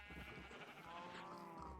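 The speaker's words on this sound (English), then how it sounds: "We now have acquired black sheeps." A single faint sheep bleat from Minecraft, short and wavering, sounds once on its own.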